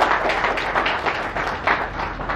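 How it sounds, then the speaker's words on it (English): Audience clapping in a hall after a call to applaud the guests and speakers at a talk on Pakistan's future, a steady continuous patter of many hands at moderate loudness with no voices over it. "have a big round of applause for all the guests and the speakers"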